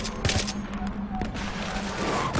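Enemy gunfire in the Battlefield 3 mission Rock and a Hard Place: dense, continuous bursts of automatic shots crackle without pause over a steady battlefield din, with a few sharper close reports standing out.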